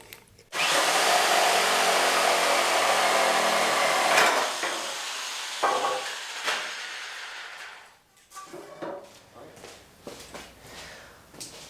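A power saw cuts wooden pieces for a racing sim rig, a loud, close whine running for several seconds and then winding down, followed by short bursts of clattering and handling noise.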